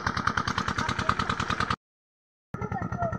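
A tractor engine idles in a mustard field being irrigated, a steady rhythmic diesel chugging close by, cut off by a brief silent gap before resuming.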